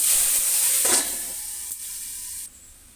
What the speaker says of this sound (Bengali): তারপরে আমি চিকেনটা এখন এটার মধ্যে ভেজে নেব।